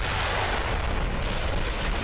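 Artillery fire in the World War II shooter game Brothers in Arms: Earned in Blood, a dense, continuous roar of distant booms and rumbling blasts that fills the whole stretch without pause.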